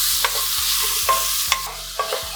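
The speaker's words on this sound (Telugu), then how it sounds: "వీటిని ఈ విధంగా కలుపుకుంటూ ఒక సుమారు 3 లేదా 4 నిమిషాల పాటు లో ఫ్లేమ్లోనే కలుపుకుంటూ వేయించుకుందాం" Small paneer pieces being stirred and fried on a low flame for kaju paneer rice, a steady close sizzle broken by regular spatula scrapes against the pan about every half second.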